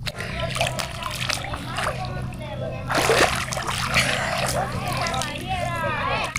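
Water splashes and sloshes as someone swims in Tefé Lake, with a louder burst of splashing midway, while voices talk over the top throughout.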